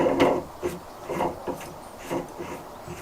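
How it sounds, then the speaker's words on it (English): A nut is wound off a wooden bench-top carving table clamp, heard close up as a series of short scraping, rasping turns with brief pauses between them. "You just wind off this nut"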